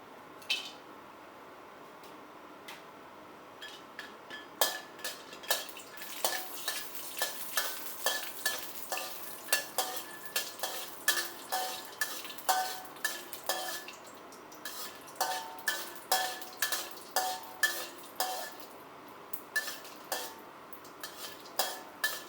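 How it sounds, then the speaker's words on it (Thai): Star anise and cinnamon dry-roasting in a little oil, with a spatula scraping and tapping the pan in a quick, regular rhythm that picks up steadily, close and moderately loud. "เราจะนำปวยกั๊กอบเชยมาคั่วให้หอมก่อน"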